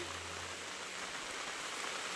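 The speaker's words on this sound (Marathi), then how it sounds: "नेमकं निघायच्या वेळी पाऊस पडायला सुरुवात झालेली आहे" Rain falls steadily outdoors as a family prepares to leave by car, a soft, even hiss of drops spread evenly through the short stretch, faint and continuous with no voices.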